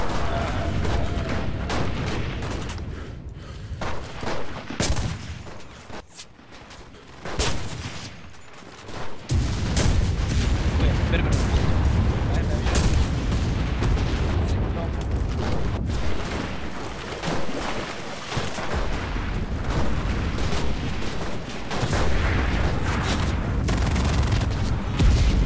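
Heavy booming cannon blasts and rapid gunfire from a battle in the video game Enlisted, loud and almost continuous, with a brief lull partway before the barrage resumes.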